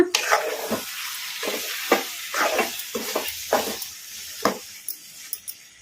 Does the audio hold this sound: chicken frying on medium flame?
yes